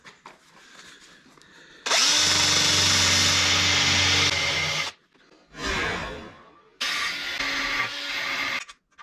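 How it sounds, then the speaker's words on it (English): A power drill chasing and cleaning threads during control-arm work on a 1955 Chevy in a garage runs in loud bursts: a sustained whine of about three seconds, a short spin, then another burst of about two seconds. "So we'll break out that drill and take care of those other three."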